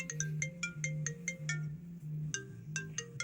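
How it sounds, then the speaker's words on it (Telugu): A phone ringtone plays a bright, repeating electronic melody of quick chiming notes over a steady low tone, moderately loud and alone. "ఏమన్నా ఫోన్ వస్తుంది."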